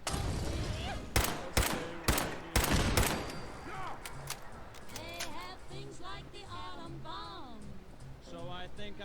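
Gunfire in Fallout 4 opens with a rapid run of loud, sharp shots, then fades as music with singing voices carries on over a low background.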